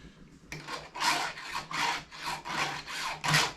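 A hand file strokes across Husqvarna chainsaw teeth in about seven steady, rhythmic rasping passes, close and fairly quiet.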